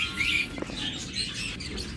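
Farm birds, including a pair of large Holland-bloodline females, chirp and call in short bursts over a steady low background rumble of the farm, moderately close, with no one talking.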